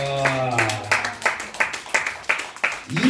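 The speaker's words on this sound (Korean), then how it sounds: "우와, 박수." A church youth group audience applauds during a Sunday sermon, a run of fairly even, strong claps at a steady rhythm after a brief voice at the start.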